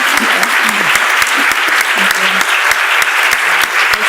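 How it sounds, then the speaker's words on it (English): An audience in a conference hall in Irvine, California, applauds its speakers with dense, loud, sustained clapping that carries on evenly throughout, while a voice speaks faintly underneath. "can we have another round of applause for our wonderful speakers"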